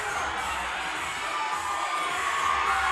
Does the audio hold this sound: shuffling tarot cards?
no